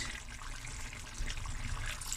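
Water, 500 ml, pours steadily into a cooking pot of chicken and potatoes, with a soft, continuous splashing and gurgle, close by and moderately quiet.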